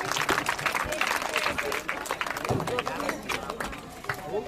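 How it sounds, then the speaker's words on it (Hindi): Loud, dense applause and clapping from an audience for a child performer at a stage event, continuous through the whole stretch, with crowd chatter and shouts mixed in. "निशा आओ जोरदार ताली बजाइए"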